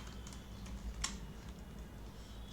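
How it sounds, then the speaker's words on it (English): Light tapping on a computer keyboard while a username is entered, faint and quiet with a few soft keystrokes spread over a low room hum. "Just you can type the username."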